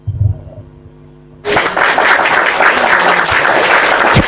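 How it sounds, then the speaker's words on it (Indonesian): Loud audience applause erupts suddenly at a religious talk event after a quiet murmur, then holds as a dense, steady roar of many hands with a few sharper claps standing out near the end. "Tepuk tangan dulu buat kokop."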